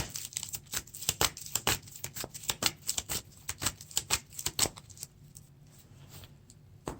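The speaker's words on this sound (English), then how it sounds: "Then we have to shuffle the encounter deck." A Lord of the Rings card game's encounter deck is shuffled, a quick series of crisp riffling and tapping card sounds, fairly close and quiet, that fade out toward the end.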